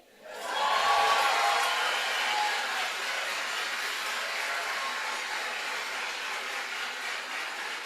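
A large graduation ceremony crowd at Waterford Kamhlaba's 2023 IB graduation breaks into a loud, sustained roar of cheering and applause that swells quickly and holds steady, filling the hall without letting up.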